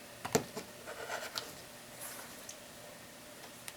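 Quilt fabric is cut along its border while squaring up a quilt, heard as a few brief scratchy cutting strokes close by in a quiet room, fading into near silence.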